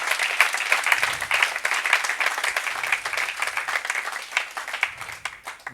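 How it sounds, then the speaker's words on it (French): A church congregation gives a sustained round of applause, dense, loud and continuous clapping that tapers slightly at the end. "Give Him a mighty clap offering."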